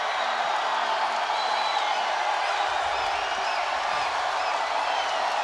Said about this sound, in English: The crowd is roaring